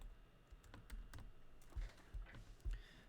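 Computer keyboard typing clicks away in an irregular patter of soft keystrokes with a few heavier thumps, moderately quiet and close, without speech.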